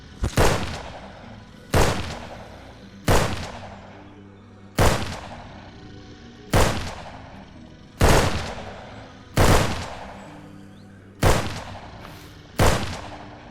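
Heavy single gunshots from big rounds in the video game SurrounDead, about ten loud, sharp reports spaced roughly a second and a half apart, each with a decaying echo, no talking.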